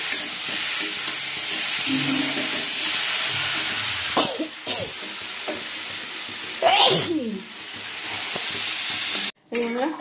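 Cauliflower and potato curry sizzles and steams in a pan on a home stove, a steady loud frying hiss with a few scraping stirs and clinks of a spoon near the end.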